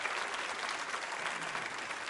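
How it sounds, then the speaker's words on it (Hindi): Audience at a women's quiz show on tourism applauds in a dense, steady wash of clapping that holds evenly throughout, with no voices heard. "तालियां जोरों से।"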